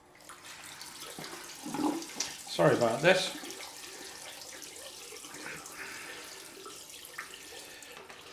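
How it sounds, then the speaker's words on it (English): Tap water running into a plastic bowl, a close gushing stream that swells for a few seconds and then settles into a softer trickle, while someone speaks briefly over it. "So let's just fill up this plastic bowl."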